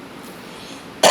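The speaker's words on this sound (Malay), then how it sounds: "Ni batuk belum lelang ni, batuk arba'in ni" After a second of near-silence, one sharp, loud cough bursts out close by at the very end.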